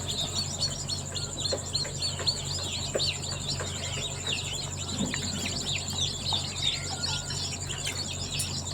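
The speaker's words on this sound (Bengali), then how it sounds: "এই হচ্ছে টাইগার মুরগির বাচ্চা, আর এই হচ্ছে দেশি মুরগির বাচ্চা" Tiger chicken chicks and local chicks peep and chirp continuously in a dense, high-pitched chorus with scattered louder cheeps, all close by over a steady low hum, with no talking.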